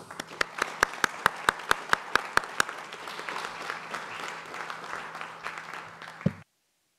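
An audience at a climate and faith panel event breaks into applause to welcome a speaker, with sharp individual claps leading into dense, steady clapping that cuts off abruptly.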